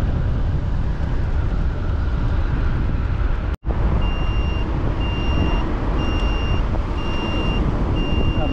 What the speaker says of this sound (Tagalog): Traffic dito.